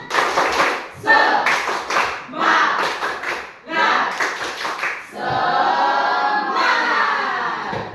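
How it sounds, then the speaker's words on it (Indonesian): Students in a Catholic religious education class perform a rhythmic group clap together, a sharp patterned burst of claps that gives way to a few seconds of loud cheering and shouting voices. "coba orang kembali dengan orang tepuk semangat tadi, coba tepuk semangat"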